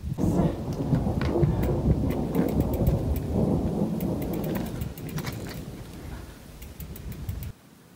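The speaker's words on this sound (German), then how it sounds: "Hinter uns das Gewitter." Thunderstorm rolling behind cyclists bikepacking in the Western Alps, with rain and deep continuous thunder rumbling loudly throughout, crackles of rain on surfaces, then cutting off abruptly near the end.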